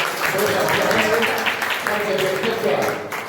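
Applause welcomes the teachers' association president at a farewell ceremony, a room of clapping hands steady and moderately loud, with speech-like voices mixed in before it tapers off at the end.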